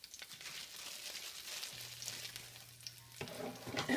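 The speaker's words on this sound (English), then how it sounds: "Add the snap peas, the white portions of the green onions to the hot pan." Snap peas and the white parts of green onions sizzle in a hot pan, a close, moderately quiet frying crackle with light stirring, and a faint tone and a louder clatter near the end.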